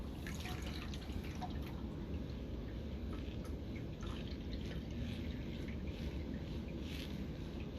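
Water is poured into a gold pan holding paydirt from an evidence bag: a steady, soft, continuous wash and trickle of liquid, fairly quiet and unbroken, with no talking.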